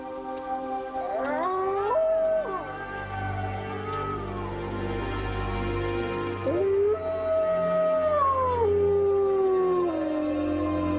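Several North American wolves howl together at night, long rising and falling tones overlapping in a layered chorus, steady and fairly loud with no talk.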